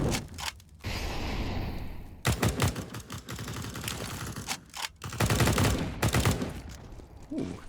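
Rapid bursts of gunfire and a grenade blast from a Counter-Strike match crackle in dense clusters, loud and close, with short pauses between volleys.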